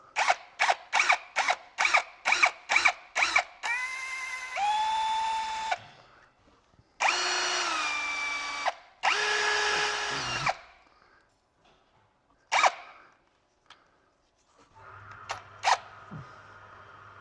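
A cordless screwdriver drives a screw into a car's rear seal, opening with a run of short, sharp bursts and then several longer whirring runs with rising pitch, close and loud, followed by faint handling clicks.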